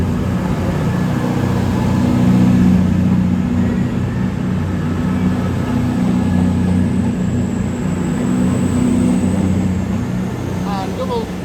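A CrossCountry Class 221 diesel unit at Newcastle station gives a steady, loud engine drone and rumble that swells slightly before easing, with a faint high whine near the end.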